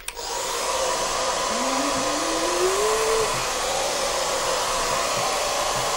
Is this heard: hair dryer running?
yes